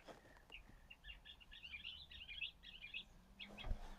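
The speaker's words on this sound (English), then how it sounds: "Although you can still hear the birds, right?" Birds chirp in rapid, busy twittering phrases, fairly faint and distant, over a quiet background rumble.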